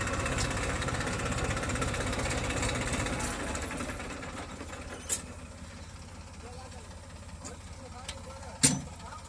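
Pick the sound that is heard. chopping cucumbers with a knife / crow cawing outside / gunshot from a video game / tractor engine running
tractor engine running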